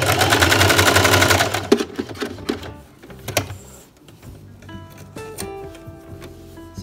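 Sewing machine running a zigzag stitch along a fabric edge for a newborn sleeper, a loud fast rattling burst that stops, followed by clicks, handling sounds and a few short mechanical whirs.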